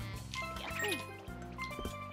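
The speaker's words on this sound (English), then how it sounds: "That's the water sound effect." A watery splash effect from the Super Mario Sunshine video game, a short liquid gurgle and sparkle that rises briefly over steady game music.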